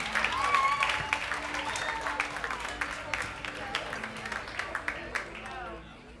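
Applause from a comedy club audience at the close of a stand-up set, dense and steady at first and thinning slightly toward the end, with faint voices mixed in.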